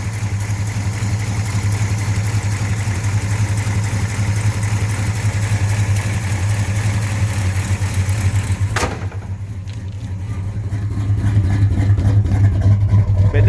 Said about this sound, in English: I've only started this just to back it out of the shop